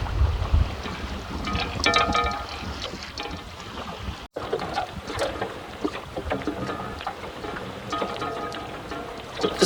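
Strong wind buffets the microphone in loud, continuous gusts, mixed with water slapping against the hull of a cruising dinghy with a cuddy cabin.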